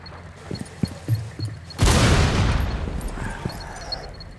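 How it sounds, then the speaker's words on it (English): A loud burst of impact grenade explosions in the tactical shooter Rainbow Six Siege erupts partway through, following scattered lighter pops and clicks, then leaves a long noisy rumbling decay. "Impact grenades, when were they doing that?"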